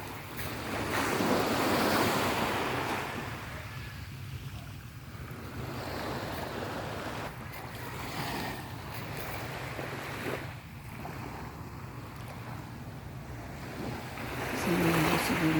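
Sea waves surging at high tide along the coast of Antique, a steady broadband wash of surf with gusts of wind buffeting the microphone, swelling louder near the start and end.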